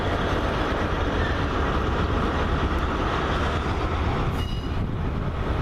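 Two Class 66 freight trains hauling intermodal wagons pass close by, a loud, dense, continuous rumble and roar with faint wheel squeal near the end and no talk.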